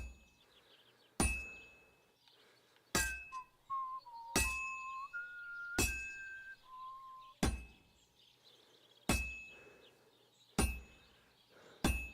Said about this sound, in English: you can tell a good strike by the sound of it.